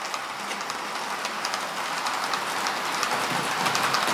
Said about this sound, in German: Okay, fährt noch einmal der Güterzug durch.